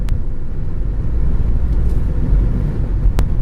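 A Toyota Corolla with a 4-speed automatic, under 3,000 pounds, takes a tight corner, its engine and road noise a steady low rumble heard from inside the cabin with no talking.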